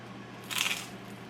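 One sharp, crisp crunch as teeth bite into a crunchy sourdough pizza crust, a brief close-up burst against quiet room tone.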